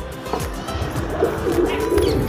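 Pet pigeons coo softly in low, repeated murmuring calls, close by, with faint background noise.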